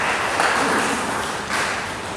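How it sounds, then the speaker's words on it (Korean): A church congregation at a Korean Sunday worship service claps together in a steady, full round of applause that swells briefly toward the end. "우리 하나님 앞에 영광의 박수 올려드리겠습니다"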